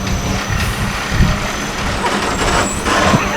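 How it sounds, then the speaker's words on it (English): A garbage truck rumbling nearby at an outdoor ground blessing for a family home build, a steady loud engine drone with a couple of brief hissing bursts like air brakes, no talk over it. "the garbage truck reminds us that life continues to happen out here"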